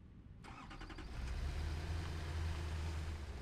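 A truck engine in the factory-building game Satisfactory starts with a sharp burst and settles into a steady, low, rumbling idle that holds for several seconds, with no talking.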